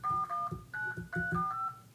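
Touch-tone keypad beeps as a phone number is dialed, a quick series of about eight distinct close tones in an uneven rhythm, clear with no talking.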